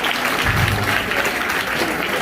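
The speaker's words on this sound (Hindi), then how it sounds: "जोरदार ताली" Applause for teachers at a school Math Day celebration, a steady, close burst of clapping from a group of students that carries evenly through the whole moment without letting up.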